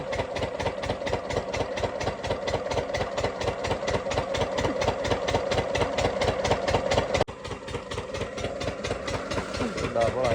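A diesel water pump engine running for paddy field irrigation, after going nonstop for about 80 hours, thumps in a fast, even rhythm up close, with a brief dip before it carries on.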